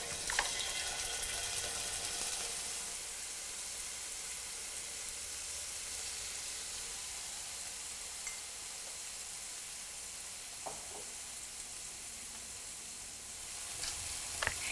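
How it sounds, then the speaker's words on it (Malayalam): Marinated fish pieces shallow frying in hot oil over a medium flame, a steady close hiss of sizzling that stays even and unbroken throughout, with a few faint clicks of handling near the end. "2-3 മിനിറ്റ് മീഡിയം ഫ്ലെയിമിൽ ഷാലോ ഫ്രൈ ചെയ്തെടുക്കണം"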